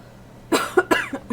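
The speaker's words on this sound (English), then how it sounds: "I just have a little cough." A short burst of dry coughs, about five close, sharp hacks in quick succession from one person with a slightly dry throat, near and fairly loud.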